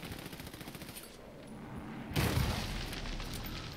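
Rapid bursts of gunfire and booming explosions from the video game Army of Two: The Devil's Cartel, loud and close, with a heavier blast about midway followed by sustained noisy firing.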